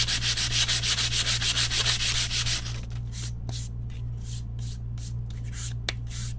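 Sandpaper rubbed by hand over a wooden farmhouse barn-door porch shelf: a quick run of rhythmic back-and-forth strokes, then quieter, sparser scrapes over a steady low hum.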